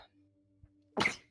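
A single sharp sneeze bursts out near the end after a quiet moment, loud and close against faint background hum.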